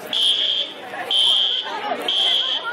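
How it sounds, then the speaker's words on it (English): A fire alarm goes off at an anime convention, sounding three long, loud, shrill electronic tones in a regular on-off pattern while a crowd murmurs and people talk underneath. "The fire alarm went off again."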